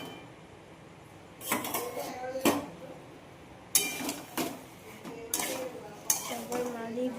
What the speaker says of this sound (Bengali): ভালো করে নাড়াচ্ছি আমি জিনিসটাকে